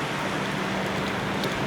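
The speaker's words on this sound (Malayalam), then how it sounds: "നല്ല മഴയുണ്ട്." Heavy rain pours steadily at a small halt station in Kerala on the Thiruvananthapuram–Shoranur line, a dense, even hiss of downpour filling the whole moment with no voices.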